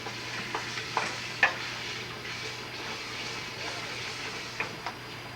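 Creole mixture sizzling in a very hot pan on a stove while being stirred, a soft steady frying hiss with occasional scraping clinks of the utensil, fairly quiet and close.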